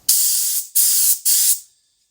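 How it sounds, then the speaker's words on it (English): Three even bursts of paint spray gun hiss, each about half a second long with short pauses between, loud and close, followed by silence. "now I am going to spray this"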